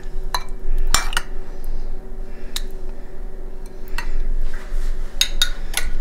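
A spoon stirs chicken mushroom soup in a metal pot, scraping and clinking against the sides in irregular knocks up close, with a low background hum.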